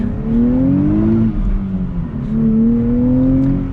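A 2023 Nissan Z manual sports car accelerates from low speed, its loud engine note rising steadily in pitch, dipping briefly at a gear change, then climbing again, heard close from inside the car with no talk.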